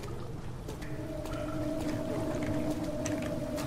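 Kaernk water monster in the flooded sewer chamber of the video game Amnesia: The Dark Descent, a low droning moan with a tonal wail sustained over rumbling, watery ambience throughout, no talk.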